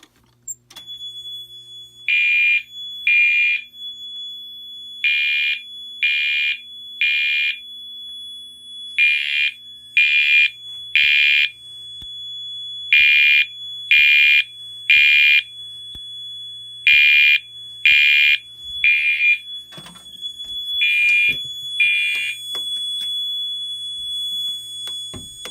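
A fire alarm panel sounds after its pull station is activated, giving loud, sharp, high-pitched pulses in repeating groups of two or three over a constant faint high tone, with short gaps between groups.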